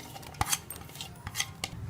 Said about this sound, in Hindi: इसमें ये प्याज डाल देंगे।